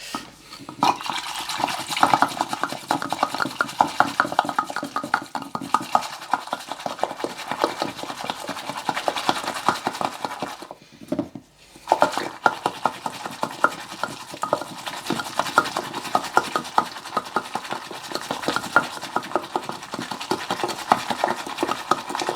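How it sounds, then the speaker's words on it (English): Aztec hot chocolate whisked vigorously to a froth, a rapid, continuous close rasping swish with one brief pause midway. "all I'm doing here is just whisking air into it to generate a froth to aerate the drink"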